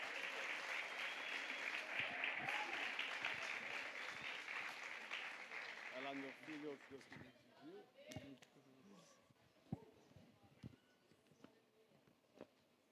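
A church congregation claps for the Lord during a Sunday celebration service, dense sustained applause for several seconds that thins into scattered claps and fades, with a voice speaking over the tail.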